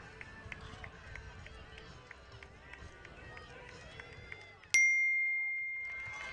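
A single loud bell strike rings for the final lap of a 1,500 meters heat at a track race, sounding once and then decaying slowly, after a stretch of crowd noise, pounding runners' feet and commentary.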